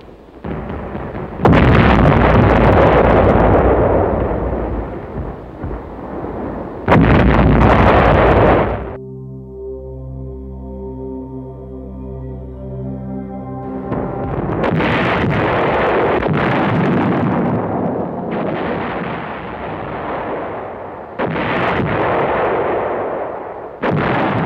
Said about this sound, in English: The German railway gun, or actually there were two guns called Robert and Leopold by their German crews, hurling giant shells into every corner of the beachhead.